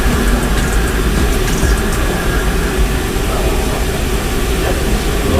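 A shock dynamometer built by a Formula SAE team cycles a suspension shock absorber, producing a loud, continuous mechanical roar and rumble that holds steady and close throughout.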